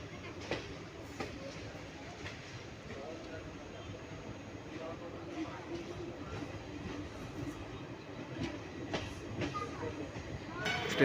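A train in Cuttack starts off and runs, giving a low, steady rumble with faint rhythmic clacks of the wheels throughout, fairly quiet, while someone talks over it.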